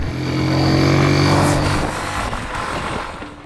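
A 2024 Kawasaki W175 motorcycle engine pulling under throttle, a loud close single-cylinder drone rising in pitch, then easing off with wind rush toward the end.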